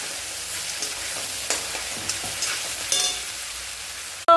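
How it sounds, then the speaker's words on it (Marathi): Spices and vegetables for a black-eyed pea and potato dish sauté in a pan with a steady sizzle broken by occasional stirring scrapes, close and without talk. "तर हे सगळं व्यवस्थित परतून घ्यायचं थोडंसं परतायचं"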